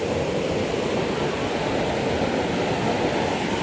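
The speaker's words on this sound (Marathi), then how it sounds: "नदीचं पाणी आहे." River water rushes steadily near a crowded temple built on a rock, a dense continuous wash of flowing noise with no breaks.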